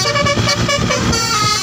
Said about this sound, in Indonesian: Mobil bus telolet teman-teman.